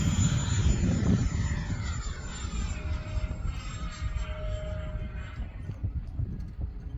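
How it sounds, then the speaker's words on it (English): A Freewing A-10 radio-controlled jet with E-Flite electric ducted fans makes a full-power pass. It gives a loud, steady whining roar with a shifting tone as it flies by, heard alone. "show you guys a full speed or full power pass so you get an idea of just how fast this thing is with these E-Flite fans"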